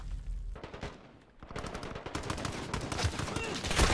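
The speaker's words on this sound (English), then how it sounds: "stop that gunfire" Rapid bursts of Call of Duty: Modern Warfare gunfire crackle and rattle on the Docks map, starting after a brief lull and growing denser and louder toward the end.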